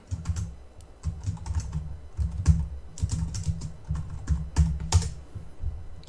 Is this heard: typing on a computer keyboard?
yes